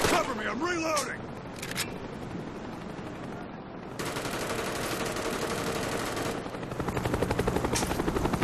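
A Cobra attack helicopter in Call of Duty: Black Ops on the Nuketown map thrums with a steady rotor beat, layered with bursts of automatic gunfire and game voices announcing events.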